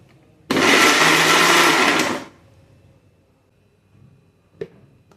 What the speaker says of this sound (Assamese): বিলাহীখিনি মিক্সি জাৰত দি পিনে পিউৰি বনাই লওঁ।